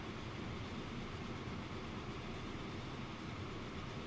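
A Mikado steam train runs in the Transport Fever video game, giving a steady, continuous rumble of rolling rail noise that holds evenly throughout.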